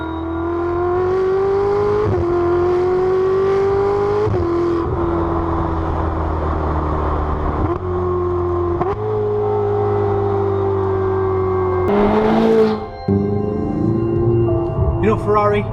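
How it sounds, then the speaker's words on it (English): A turbocharged Ferrari 488 GTB engine revs and drones steadily up close, its pitch rising and dipping with a couple of sharper blips and turbo whoosh near the end, heavy and continuous throughout. "The engine noise is still there. That turbo, that whooshing, the noise"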